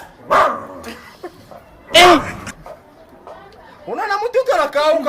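A man imitates a dog with two loud, close barks a second or so apart, followed by whimpering yips blended with his own talking toward the end.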